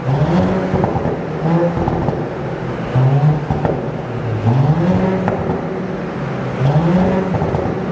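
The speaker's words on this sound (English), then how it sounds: "First will be a startup, then a couple of revs" Stock-exhaust Audi S4 engine running close by, with rising and falling rev sweeps repeating every couple of seconds over a steady idle rumble, loud and without talk.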